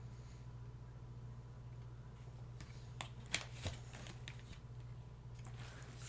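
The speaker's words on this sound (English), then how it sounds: "I am going to just reach in and grab a card blindly." A card is drawn from a deck of reading cards, with soft shuffling and rustling that builds into a few crisp snaps and flicks midway, close and quiet against a low background hum.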